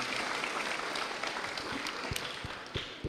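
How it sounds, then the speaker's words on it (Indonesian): Students in a debate hall in South Kalimantan, Indonesia, applauding together, a continuous crowd of clapping hands with scattered sharper claps and a faint voice underneath. "Tepuk tangan untuk kita semua."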